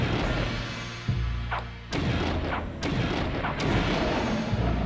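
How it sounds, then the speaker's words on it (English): Explosions go off in the video game Blood Omen: Legacy of Kain, with several heavy booming blasts over a dense, loud rumbling game soundtrack and no talk. "look at that explosion right there"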